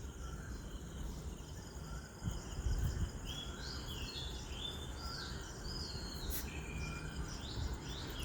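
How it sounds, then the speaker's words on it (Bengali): Birds sing at dawn from a rooftop, thin scattered chirps and calls at moderate distance over a steady insect-like background hum, with no talking. "আর এই পাখির আওয়াজ"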